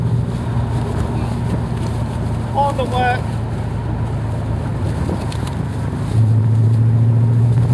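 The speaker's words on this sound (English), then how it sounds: "You can feel the engine got a load of torque on it." Engine of a Daimler Dart car hums steadily during a test drive, a low, continuous drone that rises slightly near the end, with people talking inside the car over it.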